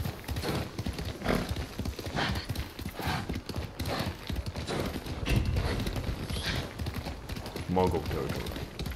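Steady clip-clop of horse hooves at a galloping pace in the video game Ghost of Tsushima, with a brief whinny near the end and a voice talking over it.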